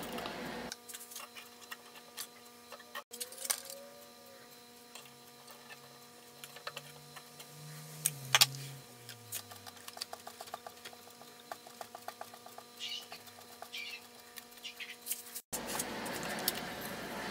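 Homemade watch-cleaning machine running on test: a steady mechanical hum and whir with soft ticking and clicking throughout, plus a low motor tone that rises and falls midway.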